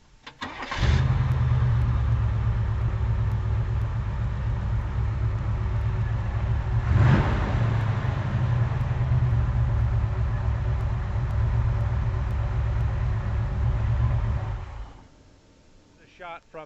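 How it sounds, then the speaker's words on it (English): A 1969 Chevelle muscle car with dual exhaust cranks and fires up, then settles into a loud, steady rumbling idle with one brief rev midway before cutting off near the end. "now here we're going to start the engine"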